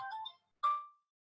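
A phone ringtone plays as a short melodic phrase followed by a single bright chime that fades out, faint, with silence after.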